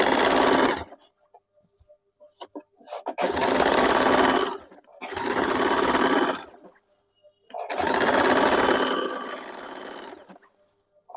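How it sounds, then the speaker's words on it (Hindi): A sewing machine runs chap stitching on a petticoat in four sustained, even bursts of a few seconds each. Short pauses separate them, and the whirring sits close and clear. "अभी इसमें हम लोग चाप सिलाई डाल देंगे।"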